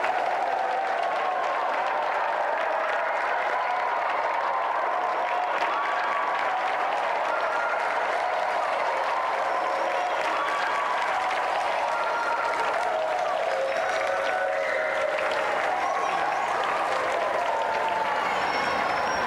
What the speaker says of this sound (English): Give a round of applause for our challenger.